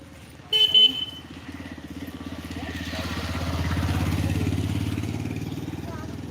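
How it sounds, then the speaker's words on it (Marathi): A vehicle approaching along a rainy village road gives a short horn toot, then its engine rumble swells steadily louder as it draws near, with people talking over it. "चल ह्या साईडले गाडी येते गाडी येते ह्या साईडले"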